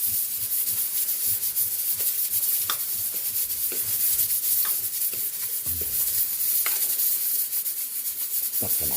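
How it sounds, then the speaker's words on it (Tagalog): Bottle gourd sautéed with browned ground beef in a pan gives a constant loud, broadband sizzle, with rubbing, scraping stirs and a few light metallic clicks throughout. "Lagyan na natin itong ating upo. Ginisang upo."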